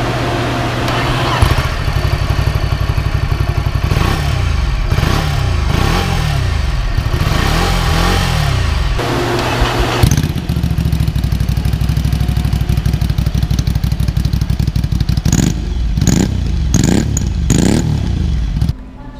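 Ducati Scrambler Sixty2 motorcycle with a Termignoni slip-on exhaust revving close up, loud repeated throttle blips rising and falling over a steady rumbling idle, with sharper quick revs near the end.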